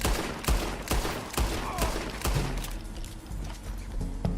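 Pistol gunfire in the video game Red Dead Redemption 2: a rapid series of sharp shots, roughly evenly spaced, loud over game ambience, with the firing thinning out toward the end.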